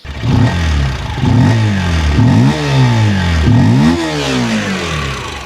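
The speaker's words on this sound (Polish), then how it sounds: "A dźwięk z wydechu jest bardzo przyjemny." Daytona Dymoto 125 X motorcycle exhaust revving close up, with four or five rising throttle blips over a throbbing idle, each climbing in pitch and then falling back, loud and alone.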